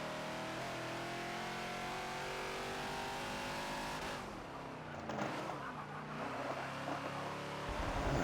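A Ford Falcon XB racing at Sonoma in Forza, its engine holding a high, steady revving note, then briefly dropping off the throttle before climbing and revving again, fairly quiet and with no talk.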